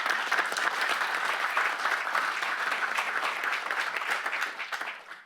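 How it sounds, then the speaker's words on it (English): Steady applause from an audience at a flood control agency board meeting, many hands clapping continuously for about five seconds before tapering off slightly at the end. "I think they all deserve a round of applause."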